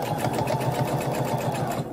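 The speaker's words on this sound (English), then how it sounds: "I'm going to stitch all the way around the mask." A sewing machine stitches around a cat-eye Halloween mask, running close and loud as a steady rapid whirring chatter that stays even throughout without a pause.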